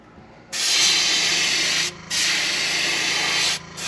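An airbrush sprays paint onto a knockoff Shallow Blower topwater fishing lure in two close, loud bursts of steady hiss, each lasting over a second, with a brief pause between them.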